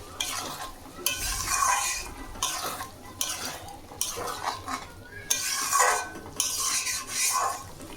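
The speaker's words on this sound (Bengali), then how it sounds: "এই জলটাতে এই মশলাটা কষানো হয়ে যাবে।" Mustard paste masala fries with water in a pan while a utensil stirs it in repeated scraping strokes, with a steady sizzle underneath and a clink of metal against the pan.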